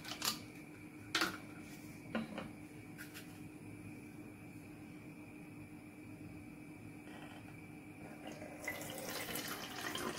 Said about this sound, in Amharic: የሩዝ ውሃ ይቀዝቅዟል አሁን እዚህ ስፕሬ ውስጥ ነው የምጨምረው